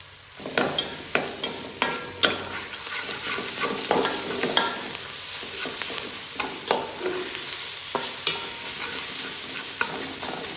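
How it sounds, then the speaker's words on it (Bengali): Garlic paste frying in oil with onions for a spicy mutton curry: a continuous close sizzle broken by periodic scraping and tapping of a stirring spoon against the pan, with no talking. "রসুনটাকে এবার তেলের মধ্যে ভাজা ভাজা করে নেব"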